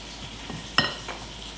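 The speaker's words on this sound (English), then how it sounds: "Give that a quick stir." A spoon giving cornbread batter mixed with canned corn and onion a quick stir in a bowl, one brief scrape and clack standing out over a faint background hiss.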